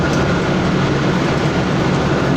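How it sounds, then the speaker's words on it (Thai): A train at Bangkok's Hua Lamphong railway station: a dense, steady rumble of rail and station noise, loud and continuous, with no talk. "อยู่ที่สถานีรถไฟกรุงเทพครับหรือหัวลำโพงวันนี้จะไปรถไฟเชียงใหม่"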